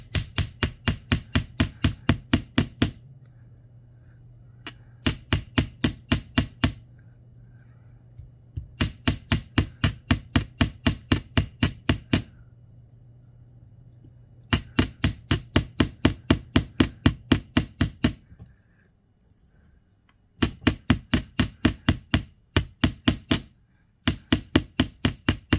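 Rapid hammer strikes texturing small metal earrings, delivered in quick rhythmic bursts of a dozen or so sharp clinks separated by short pauses, close and crisp with no talking.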